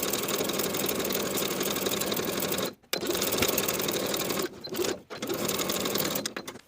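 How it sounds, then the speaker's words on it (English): A sewing machine stitches a knit seam with a narrow zigzag stitch in fast, continuous runs, pausing briefly twice before resuming with the same busy mechanical whirr. "Sew this seam with a 3/8 inch seam allowance and your narrow zigzag stitch."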